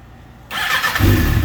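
A 2013 Kawasaki ZX-6R 636 Ninja with an Akrapovic exhaust cranks and catches abruptly, then settles into a loud, close, steady idle rumble with no talking.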